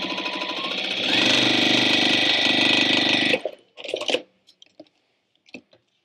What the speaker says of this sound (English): We're going to sew along here with 1/4 inch.